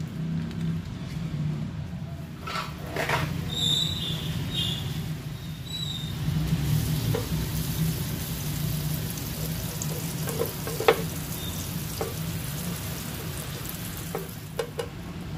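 Satay padang skewers grilling in a pan with a little margarine give a steady, close sizzle and crackle, with a few sharp clicks and taps over the continuous frying hiss.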